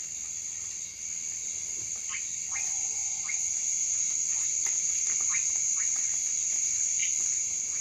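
Rainforest frogs call from nearby in short, repeated chirps and clicks scattered across the clip, over a steady high insect drone and a dense night chorus, with no voices.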